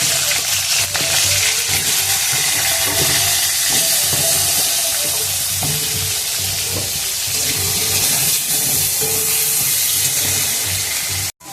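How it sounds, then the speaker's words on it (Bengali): Potatoes frying in hot oil in a kadai, a loud, steady sizzle and hiss that runs unbroken for about eleven seconds before cutting off abruptly, with no voices. "প্রথমে আলুগুলো ভেজে নিচ্ছি।"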